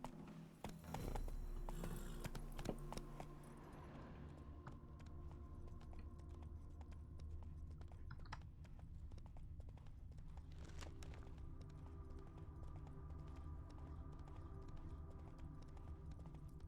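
Roach the horse in the Witcher 3 video game trots along with steady, rhythmic clip-clop hoofbeats, close and continuous over a low ambient game backdrop, with no talking.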